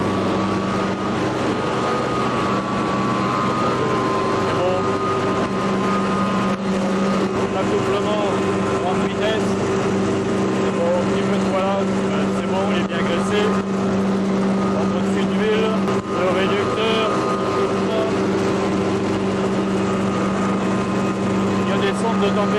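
A cement mill drive motor runs in an industrial plant, a steady, loud mechanical drone with a strong hum and constant whine that holds unchanged for over twenty seconds. Wind and handling noise sit over it.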